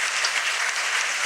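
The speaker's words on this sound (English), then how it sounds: "ask for a round of applause for these great panelists." Dense, steady applause from a conference audience honouring a panel at a global services forum in Buenos Aires, filling the short moment evenly on its own without voices.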